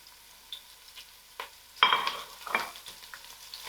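Curry leaves, thyme and whole biryani spices stir in hot oil in a frying pan, giving soft sizzling with a few scraping stirs and a louder crackling burst midway, close and without talk.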